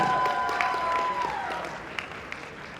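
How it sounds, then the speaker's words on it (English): Audience applause at an anime convention cosplay contest, a steady wash of clapping from a crowd with a tonal hum running under it at moderate volume. "let's give them all one more round of applause for dealing with your interrogation"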